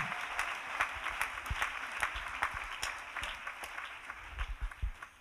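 Steady audience applause in a church camp gathering, moderately distant with rhythmic claps cutting through a continuous wash of hands, no talk over it.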